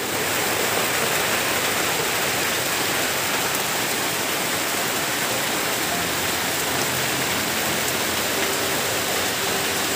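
Heavy monsoon-season rain pouring down continuously, a dense, loud, even hiss of water on surfaces with no break and no voices.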